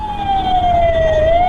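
An ambulance siren wails loud and close on a city road near Thampanoor at night, one continuous rising and falling tone sustained throughout.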